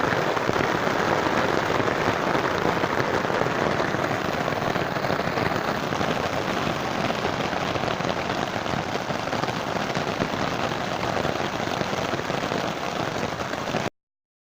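Steady, heavy thunderstorm rain pours down throughout, a dense continuous hiss of drops with no voices or pauses.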